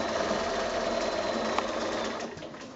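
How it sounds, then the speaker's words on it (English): Sewing machine stitching binding onto a quilt, a steady close whirring hum of rapid needle strokes running continuously without pause. "So I just keep sewing,"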